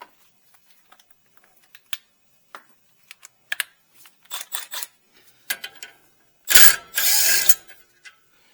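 A ratchet clicks in quick bursts while removing the brake caliper bracket from a Toyota Tundra, sharp close metallic ticks in uneven runs, ending in a couple of louder clanks and scrapes of the bracket coming free.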